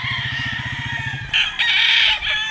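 A white Kelso bull stag gamefowl rooster at a gamefarm sale crows once, a close, loud call that opens in a rapid throaty pulse and then breaks into a strained high-pitched cry with no one talking.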